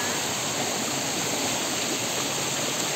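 Water rushes steadily along a mountain trail stream at a hiking rest station, a loud, continuous broadband hiss and roar with no breaks and no voices.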